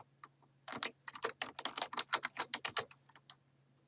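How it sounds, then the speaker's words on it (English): Quick, steady keystrokes on a computer keyboard as data is entered into Microsoft Access, a close, quiet run of clicks lasting a few seconds over a faint low hum. "we're going to just type this in"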